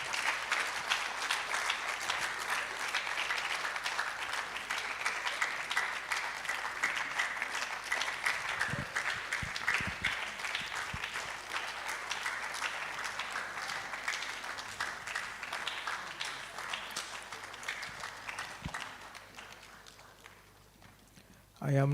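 A public lecture audience at the Ghana College of Physicians and Surgeons claps loudly and continuously for over twenty seconds in a thick, even wash of many hands, with a brief voice or bump right at the close.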